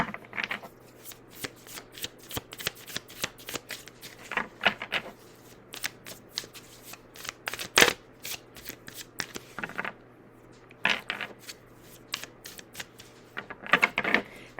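A deck of tarot cards is shuffled close up in quick riffling, flicking bursts, with short pauses between rounds over a faint steady hum and no talking.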